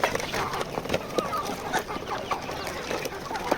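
Free-range local gavthi chickens on a farm, scattered soft clucks and short calls overlapping at close range over a low outdoor background.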